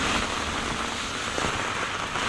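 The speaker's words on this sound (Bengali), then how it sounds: "এই দেখুন, বৃষ্টি করছে প্রচণ্ড জোরে, দেখুন বৃষ্টি" Heavy rain pours down steadily and loudly as someone walks home under an umbrella, a dense, continuous hiss of drops with no voices.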